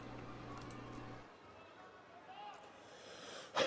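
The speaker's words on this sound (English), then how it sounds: "Thank you, whoever coughed into the microphone." A single sharp cough bursts loud and close into the microphone at the very end, after a few seconds of low arena murmur ahead of the Hoshoryu–Takayasu sumo bout on day 11 of the 2026 Hatsu Basho.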